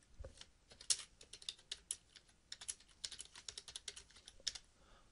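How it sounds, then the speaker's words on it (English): Rapid computer keyboard typing with irregular clustered keystrokes, clicking close and crisp throughout with no talking. "then typing in our note"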